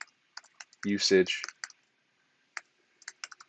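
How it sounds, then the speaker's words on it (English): Typing on a computer keyboard, with scattered bursts of quick key clicks before and after a short stretch of someone speaking. "I'm going to type here, internet"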